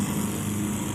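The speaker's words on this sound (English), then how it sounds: "you also got to hear the lawnmower up close" A Craftsman riding lawn mower runs up close, its engine drone steady and loud throughout the second with no pauses or voices.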